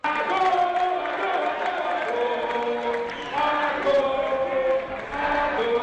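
A large, jubilant crowd cheers and shouts in welcome for President Alassane Ouattara and his wife Dominique Ouattara. The many-voiced roar holds steady, swelling and dipping slightly.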